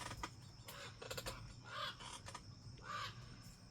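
A crow caws a few times at a moderate distance, harsh calls spaced apart over a quiet background with faint clicks.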